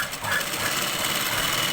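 A sewing machine stitches Punjabi dress pants, running in a steady, continuous mechanical whir that stays close and fairly loud throughout.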